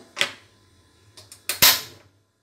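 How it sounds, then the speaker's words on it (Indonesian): A gas stove being switched on: a sharp knob click, then a couple of quick igniter ticks and a brief whoosh as the burner catches, close and fairly loud. "Lalu kita taruh di atas kompor. Kita nyalakan kompornya."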